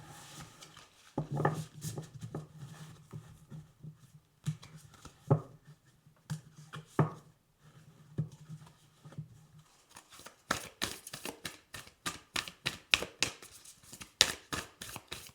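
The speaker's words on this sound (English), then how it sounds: "Okay, last shuffle." Tarot cards being shuffled by hand, soft riffles and slides early on giving way to a rapid run of crisp, rhythmic card snaps and flicks in the second half, close and clear with no talk.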